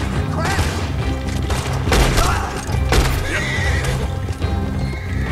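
A horse whinnies amid busy, dense Red Dead Redemption 2 game sound with clattering hooves and bursts of gunfire, everything loud and layered.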